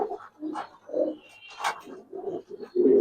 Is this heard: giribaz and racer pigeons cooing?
yes